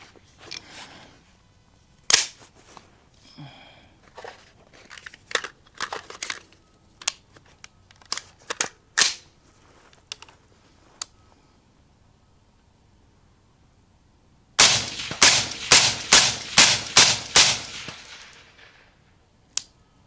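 Gunfire from an HK416 MR556A4 rifle: scattered sharp single reports for about twelve seconds, then a loud, rapid string of about nine close shots near the end, with no talking.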